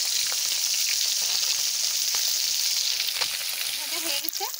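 Fish sizzles steadily in hot oil in a home kitchen, a dense continuous crackling hiss, close and loud, with faint occasional clinks and a brief voice near the end.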